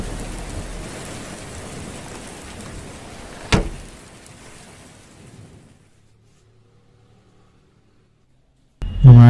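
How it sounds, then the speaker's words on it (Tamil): Heavy rain pours in a dense steady hiss, with one sharp crack partway through, then fades to near silence before a loud burst returns at the very end. "மழை வேற அடிக்குது."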